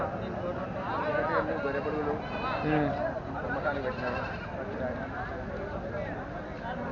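Sheep and rams bleating at a Saturday livestock market in Dhone, several wavering calls rising over steady crowd chatter and background bustle, with people talking throughout.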